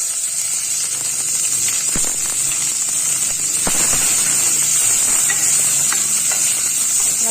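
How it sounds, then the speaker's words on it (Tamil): Small onions sauté in a pan with leaves for a liver and bone soup, giving a steady, even sizzling hiss with occasional soft stirring clinks, close and moderately loud. "இப்போ நம்ம வந்து இந்த வெங்காயத்தை இதோட சேர்த்துக்கலாம் இதை நல்லா வதக்கி கொடுத்துக்கலாம்"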